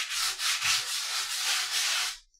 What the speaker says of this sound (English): 120 grit I find is pretty ideal for this spackle, as well as most of this kind of sanding